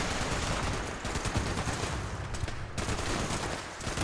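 Turrets in the game Fallout 76 fire a dense, continuous rattle of gunfire, loud and sustained with brief dips, no talking over it.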